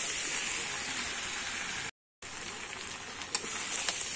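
Fried prawns with green jackfruit sauté in a pan with a soft, even hiss that cuts out briefly, then returns with a couple of faint ladle taps. It is quiet, close and without voices.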